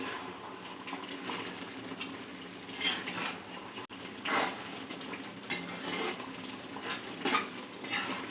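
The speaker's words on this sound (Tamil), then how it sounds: "கொஞ்சம் மிளகாய்த்தூள், எல்லாத்தையும் போட்டு நல்லா கிளறி விட்டுக்கலாம்." A spoon stirs chilli powder into chicken gravy in a pan, producing close, soft scraping and wet sizzling strokes in an uneven rhythm.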